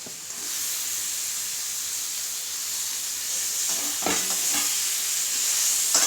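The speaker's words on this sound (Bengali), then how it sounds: "এই মাংসটাকে পাঁচ থেকে সাত মিনিট কষব" About 700 grams of chicken with chopped green chillies being stir-fried in a pan, a loud, constant close-up sizzle and hiss with a few spatula scrapes near the end, no one talking.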